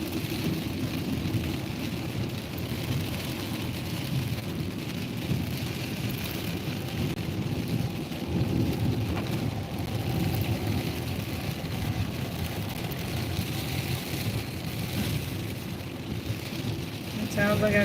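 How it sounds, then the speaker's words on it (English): Heavy rain pours down on a car being driven in Anchorage, heard from inside as a steady, dense drumming roar that holds for the whole stretch without pause. "I mean, it's raining like it's poured."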